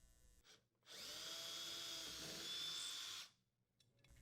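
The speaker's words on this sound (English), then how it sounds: "Using a 1/8 inch diameter drill bit, drill the holes where marked." An electric drill with a 1/8-inch bit whirs steadily for about two seconds, a close, loud, continuous buzz that starts and stops abruptly, with quiet moments before and after.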